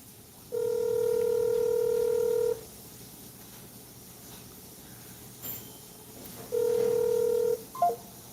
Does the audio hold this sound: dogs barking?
no